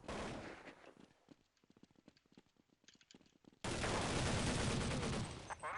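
Counter-Strike 1.6 gunfire rattles in rapid automatic bursts, crisp repeated shots at moderate volume, followed by a loud sustained barrage of fire that swells suddenly and continues to the end.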